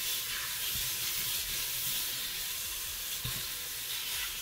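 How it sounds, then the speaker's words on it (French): Beef browning without added fat in a hot Cookeo multicooker pot: a steady, even sizzle and frying hiss continues throughout, with a few faint clinks and stirring sounds. "Hop, on peut mettre la viande. Elle va dorer tranquillement."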